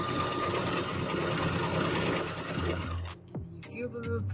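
A sewing machine stitches a neck pillow seam, running forward, reversing into a back stitch and going forward again, a steady close whirring that stops near the end, leaving faint clicks and handling noise.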